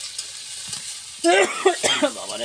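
Chilies added to a frying catfish (shing fish) curry, giving a soft steady sizzle and stirring, with a voice briefly exclaiming over it partway through.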